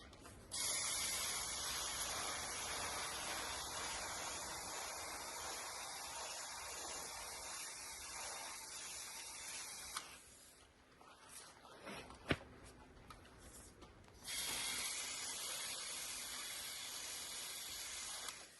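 Steady close hissing spray of water onto pepper seedlings in a seed tray, running continuously for about ten seconds, pausing briefly, then resuming.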